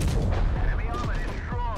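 Dense, continuous booming cannon and gunfire from a World of Tanks Blitz battle with an FV217 Badger tank destroyer, with rolling blasts and whistling shell sweeps layered close and loud throughout.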